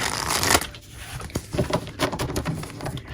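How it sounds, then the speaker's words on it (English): Tarot cards being shuffled by hand: a dense riffling burst for about half a second, then softer, scattered slaps and flicks of the deck, close and alone without talk. "I'm going to shuffle these back in while I really try to meditate on this question"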